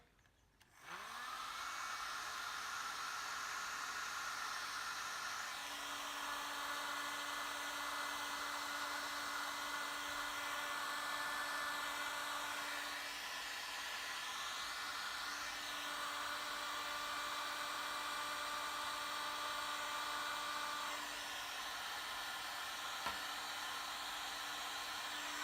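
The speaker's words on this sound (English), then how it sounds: "I'm just going to give them a blast with a heat gun" A heat gun blows steadily for about twenty seconds while shrinking heat-shrink sheathing over wiring on a BSA A70L motorcycle, a close continuous whooshing hiss with a faint tonal whine and no speech.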